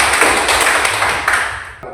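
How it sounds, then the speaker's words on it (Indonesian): Classroom students clapping together in a short burst of applause, dense and fairly loud, fading toward the end. "Kita berikan tepuk tangan."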